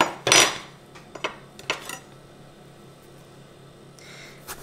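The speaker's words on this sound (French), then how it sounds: "après avoir lavé mes aubergines, je vais simplement les couper en grosses rondelles" A knife cutting washed aubergines into thick rounds about 1 cm across on a board, a loud crisp slice near the start followed by a few lighter taps and knocks, then quiet.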